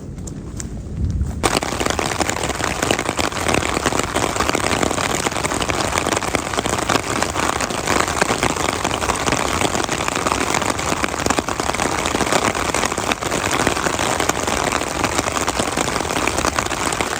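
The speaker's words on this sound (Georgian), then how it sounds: "მაგარი თავსხმა წვიმა მოდის რა." Heavy downpour of rain on a mountaintop, a dense, loud, steady hiss of drops hammering surfaces that runs without a break after a brief quieter opening.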